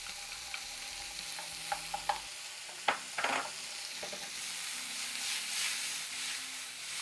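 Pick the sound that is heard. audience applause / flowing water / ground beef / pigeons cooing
ground beef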